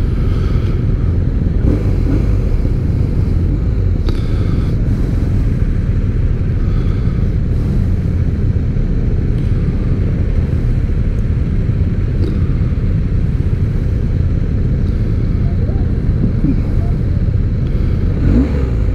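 A BMW R1250R motorcycle idling right after starting, with a steady loud low rumble that holds close and even throughout.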